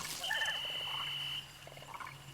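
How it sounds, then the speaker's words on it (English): Frog croaking in a video game, a raspy, ribbed croak close up followed by a second softer croak, over a steady tonal game ambience. "I don't like this frog being here"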